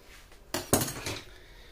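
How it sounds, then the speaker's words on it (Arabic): A knife chops through four garlic cloves on a board, giving two or three quick, close, sharp cuts and knocks in a quiet kitchen with no voices. "je coupe les 4 gousses d'ail"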